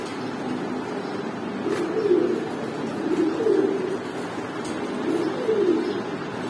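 High flyer pigeons cooing at a pigeon farm, soft repeated coos rising and falling in several phrases over a steady low hum, fairly close and moderately loud, with no talking.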